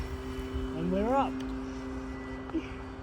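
A radio-controlled model airplane flies overhead with a steady motor whine, and its pitch sweeps upward briefly as it passes, heard at moderate distance over outdoor background noise.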